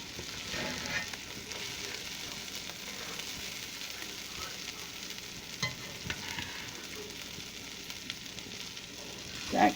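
Chicken pieces fry and brown in a pan for sweet and sour chicken, giving a continuous soft sizzle with occasional stirring scrapes and a louder clatter at the end, no talking.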